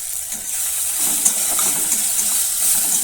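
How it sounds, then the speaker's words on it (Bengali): Chopped garlic frying in a pan: a steady, bright sizzle hisses continuously at moderate loudness, with faint scraping touches and no voices. "এবার দিয়ে দিচ্ছি রসুন কুচি রসুনটাকেও ভালো করে আমি ভেজে নেব"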